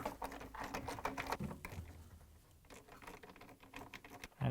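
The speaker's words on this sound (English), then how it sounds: "We're going to use 7/16 inch socket wrench. Take out the bolts." A 7/16 inch socket wrench removes the bolts holding the counterweight on a Frigidaire washer, a quiet run of rapid ratcheting clicks and metallic patter, close up with brief pauses.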